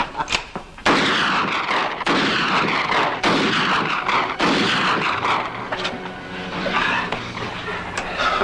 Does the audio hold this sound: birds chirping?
no